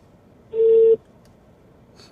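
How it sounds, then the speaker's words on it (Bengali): A single steady electronic ringback tone lasting about half a second, clear and close, followed by quiet line noise. "রিং হচ্ছে"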